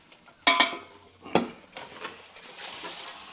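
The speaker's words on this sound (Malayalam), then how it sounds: "വേവിച്ച് വെച്ച ഇറച്ചി ഇതൊക്കെ കൊട്ടി ഇളക്കി സെറ്റാക്കി" Cooked beef, simmered with turmeric and pepper, is tipped into a pan for Kerala-style beef fry with coconut bits: two sharp metallic clangs and another knock against the pan, then soft scraping and a low sizzle as it is stirred, close up.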